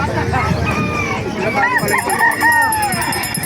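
Chickens and fowl clucking and squawking amid a busy crowd of chattering Filipino voices, a noisy poultry market bustle in Bocaue, Bulacan, with the birds close by.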